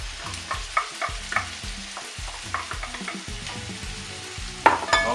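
Three large blended tomatoes sizzle and fry in a pan while a spoon stirs them in repeated rhythmic scrapes, with a louder clatter near the end.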